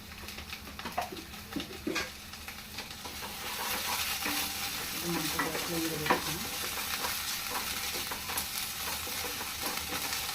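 Ginger garlic paste fries in a pan for an Andhra-style cluster bean fry, a close crackling sizzle with repeated scraping stirs and light utensil knocks throughout, no speech.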